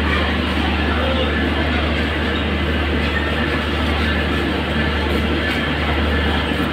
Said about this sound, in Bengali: একতা এক্সপ্রেসকে পঞ্চগড় থেকে এই লোকোমোটিভ নিয়ে আসলো